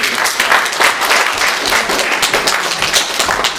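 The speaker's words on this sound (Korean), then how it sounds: "우리가 박수로 그냥 축하하도록 하겠습니다" A church congregation claps together at a Sunday worship service, dense and close, sustained at an even level throughout with no voices.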